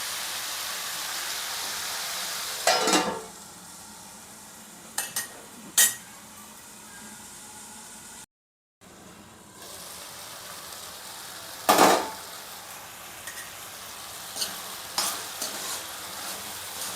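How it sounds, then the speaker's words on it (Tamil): Onion and tomato sautéing in a pan for Tamil-style tomato thokku, stirred with a utensil in a few scraping strokes over a steady soft sizzle, with a brief silent gap midway and occasional light clinks of metal on the pan. "நல்லா வெங்காயம் தக்காளி வதங்கட்டும்"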